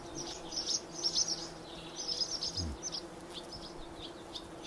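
Honey bees buzz around an opened top bar hive in an orchard, a steady close hum with bird chirps scattered over it.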